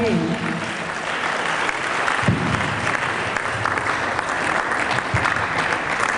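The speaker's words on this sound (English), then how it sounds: "applause once again for him" An audience applauding at an engineering society's Founding Fathers Day public lecture in Osogbo, steady full-room clapping throughout with a voice audible briefly at the start.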